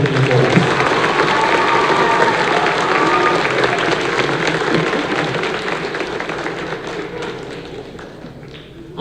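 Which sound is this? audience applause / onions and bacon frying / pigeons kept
audience applause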